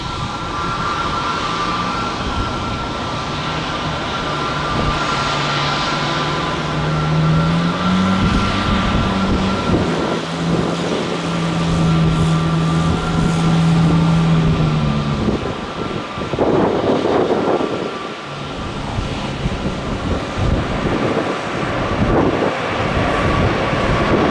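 A jet airliner taxis at Tampa International Airport, its engines a loud, steady whine and rumble that swells midway, with wind buffeting the microphone and no voices.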